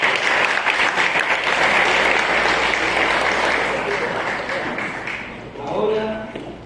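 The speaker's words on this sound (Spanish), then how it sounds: "Ok, un aplauso ahora sí" A classroom full of students breaks into loud, sustained applause that slowly fades, with a voice speaking as the clapping dies down.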